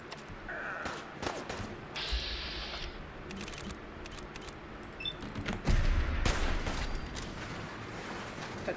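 Rifle gunfire in Fallout 4 at a target high up: scattered sharp shots crack over ambient game sound, with a louder, heavier blast near the middle followed by lingering rumble.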